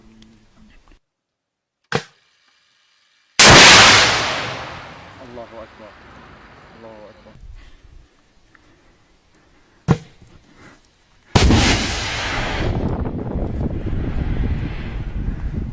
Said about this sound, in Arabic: استهداف مدفع 57 بصاروخ تاو